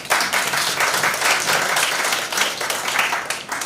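An audience at a high school debating competition breaks into steady, dense applause, a loud continuous wash of clapping that lasts throughout with no talking over it.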